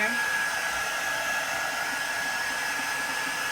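Hair dryer blowing on mixed media craft tags, a loud, steady whooshing roar with a constant high whine, running close and unbroken throughout.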